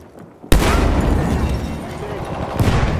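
Enemy machine gun fire in Battlefield 1 during a Team Deathmatch on the Nivelle Nights map, a sudden loud burst of gunfire with booming blasts after a quiet start and another surge near the end.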